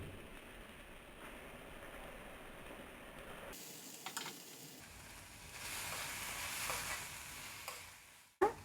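Paneer is fried in a pan with chilli sauce for paneer fried rice, giving a faint, hissing sizzle. The hiss grows louder partway through and ends with a sharp clatter, with no talk.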